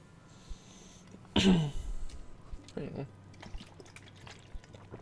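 A single sharp throat-clearing cough bursts out close by, followed by a smaller rough grunt a moment later, over quiet background.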